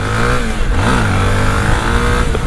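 A new motorcycle's engine revs hard and close, a loud sustained roar with rising and falling pitch and no talking over it.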